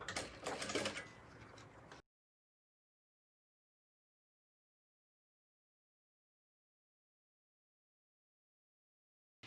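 A sewing machine stitches fabric for a pencil-case organizer with elastic bands. It gives a short, close, fast whirring run of about two seconds, then stops, leaving silence.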